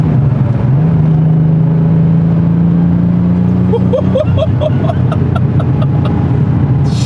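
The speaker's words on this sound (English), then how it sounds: "when the turbo spools up, then it pushes" A 1987 Porsche 930 Turbo engine drones steadily, then rises in pitch as it accelerates and the single turbo spools up, loud and close inside the car.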